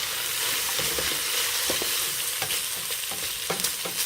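Vegetables with garlic and rosemary are stirred in a hot frying pan, a continuous hiss of sizzling broken by scattered scraping and clinking stirring strokes, close and without talk.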